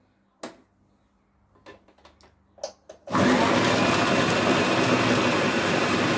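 An electric chopper cuts onions and green chillies with a loud, steady whirring drone that starts abruptly and runs without a break, after a few soft clicks and knocks from the setup.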